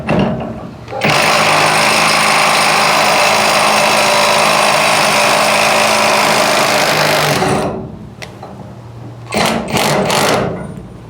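A Vanque brushless impact wrench hammers a bolt up toward its torque limit with a loud, dense rattling burst lasting about six seconds, then stops. A few shorter, quieter bursts of hammering follow.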